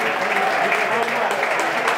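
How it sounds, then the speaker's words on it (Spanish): Football fans at an Alcalá match applaud the first goal with a broad, sustained wash of clapping from a crowd. A commentator talks over the applause throughout. "Aplaudiendo el primer gol del Alcalá."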